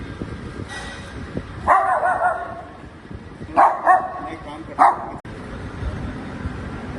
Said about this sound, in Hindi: जो आ रहा है उसके ऊपर भौंकता जा रहा है।